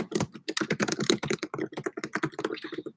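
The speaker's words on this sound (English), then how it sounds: "I'm just gonna type this in here" Rapid typing on a computer keyboard, a dense run of close, crisp key clicks in an uneven rhythm lasting the whole stretch, with no talk over it.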